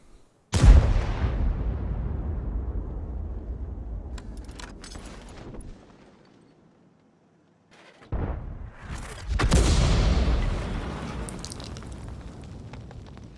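Tank shells fired in a video game, two heavy booming blasts several seconds apart, each trailing into a long rumbling decay, loud and close with no talk.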